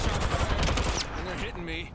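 Gunfire in the video game Apex Legends: a dense, loud burst of rapid shots fills the first second, then fades into quieter game effects and tonal sounds, with talk over the top.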